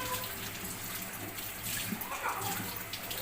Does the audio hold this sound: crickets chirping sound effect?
no